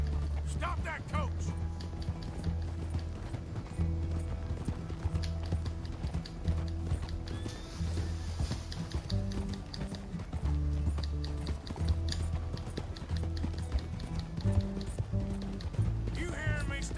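Rapid hoofbeats of a galloping horse in Red Dead Redemption II pound steadily beneath game music, with someone shouting excitedly over them in places.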